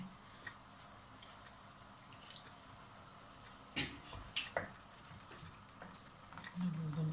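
Bulgur grains poured into a pan of sautéed tomatoes, giving a soft rattling sizzle with a few sharper clicks of grains hitting the pan over a steady low frying hiss, quiet and close, with some faint talking.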